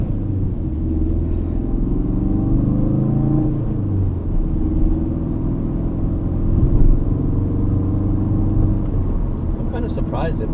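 A 2017 Ford Focus RS engine rumbles at low revs from inside the cabin, a steady throaty drone with a slight swell midway and faint crackles toward the end.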